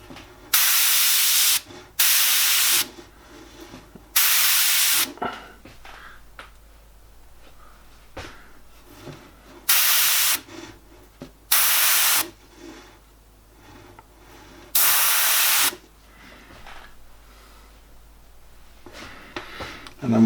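Short airbrush bursts misting paint onto a realistic portrait, six or so separate sprays of a few seconds each, hissing steadily with quiet pauses between them and no talking.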